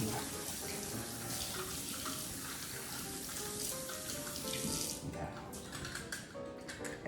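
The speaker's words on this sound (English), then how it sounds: "So let's do a quick wash." Tap water runs into a kitchen sink while a lemon squeezer is rinsed under it, a steady splashing stream with faint clinks of plastic, fairly quiet and close.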